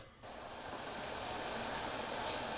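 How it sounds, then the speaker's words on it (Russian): A gas stove burner hisses steadily beneath a pot of water, a constant broadband rush that starts after a brief quieter moment and holds at an even level with no speech. "выливаем воду и подключаем газ, ждем закипания воды."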